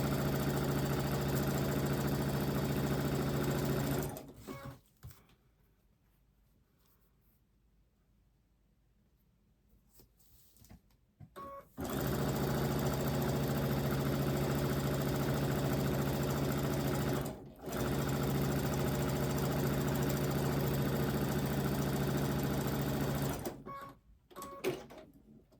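A sewing machine hums loudly and steadily while chain piecing cotton quilt fabric, running in long stretches broken by short pauses and one longer quiet gap.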